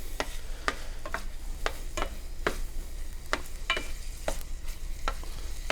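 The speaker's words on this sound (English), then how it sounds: "Then throw the butter in. Let that slowly melt down." Butter melting down in a hot pan gives a soft, steady sizzle, punctuated by a series of light spoon taps and scrapes against the pan.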